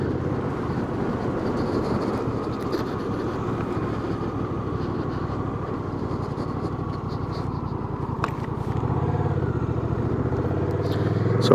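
A 2025 Honda Rebel 1100 SE DCT motorcycle ridden on a cold day, its engine a steady close rumble with wind rush throughout, rising slightly toward the end.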